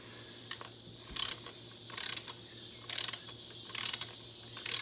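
Ratchet on a spark plug in a 2003 Ford Mustang Mach 1 clicks in five short, close bursts of rapid ticks separated by brief pauses, with no talking.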